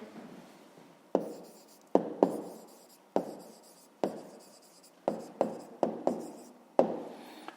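Pen or pencil writing a math answer on paper, a series of about a dozen short scratchy strokes and taps in an irregular rhythm, quiet and close.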